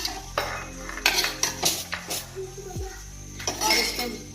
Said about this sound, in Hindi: तो हमें इसे चलाते रहना है।